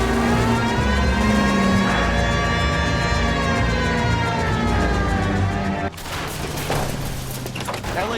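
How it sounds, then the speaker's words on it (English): A police car siren wails in the video game L.A. Noire, a loud rising and falling tone over engine noise that cuts off sharply near the end, followed by gunfire-like bursts and voices. "Hit the siren."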